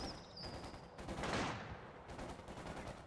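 Small arms gunfire in a video game, rapid overlapping bursts of shots running continuously with a brief louder swell in the middle, no voices.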